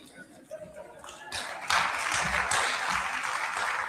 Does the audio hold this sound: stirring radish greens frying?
no